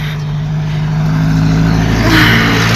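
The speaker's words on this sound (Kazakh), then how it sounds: "Бізден бөлек міне машиналар жүр." Cars drive past on a snowy road in a steady, close traffic rumble, with engine drone and tyre noise swelling toward the end as a vehicle passes nearby.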